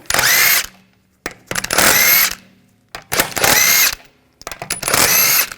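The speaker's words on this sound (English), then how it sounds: "Use a 17mm socket. Take these lug bolts out." Power tool fitted with a 17mm socket removing the lug bolts from a BMW 328i wheel, four loud whirring bursts of about a second each, separated by short pauses.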